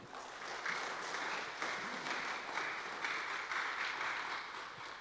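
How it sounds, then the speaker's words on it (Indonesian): A hall audience at a formal integrity zone declaration ceremony gives a round of applause, steady but somewhat distant and soft, with no talk over it. "Boleh kita beri tepuk tangan yang meriah Bapak Ibu?"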